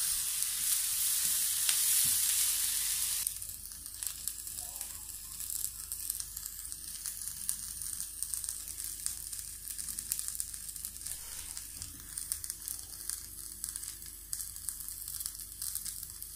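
Chopped onion fries almost dry in a pan with no oil while making chicken and eggplant maqluba, giving a steady close crackling sizzle with faint stirring scrapes and no talking.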